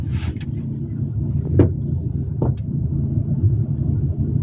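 Nissan Altima 2.5 car driving through desert, a steady low rumble of engine and road noise with a couple of brief knocks, close and continuous, no talk.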